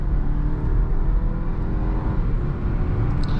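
A 2023 Volvo S60 Recharge Black Edition, a 455 hp plug-in hybrid with an 8-speed gearbox, accelerating hard, heard from inside the cabin as a steady, loud low engine roar and road rumble that holds throughout, with no talking.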